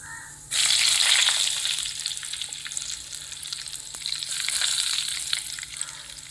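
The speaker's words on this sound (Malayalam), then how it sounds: "ഇതിലേക്ക് നമുക്ക് കുറച്ച് കറിവേപ്പില ഇട്ട് കൊടുക്കാം" Curry leaves drop into hot oil already holding fenugreek seeds and burst into a sudden loud sizzle. The sizzle crackles on steadily and eases slightly before swelling again.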